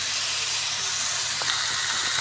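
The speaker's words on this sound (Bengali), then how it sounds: "এবার সবজিগুলো আস্তে করে এর সঙ্গে ভেজে নিই।" Vegetables frying in a small amount of oil give off a soft, even, continuous hiss, close and steady throughout with no voices.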